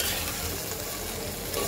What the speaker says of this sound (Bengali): এটাকে ঠিক এরকম 2-3 বার ঢাকনা খুলে এভাবে নেড়ে চেড়ে দেবো।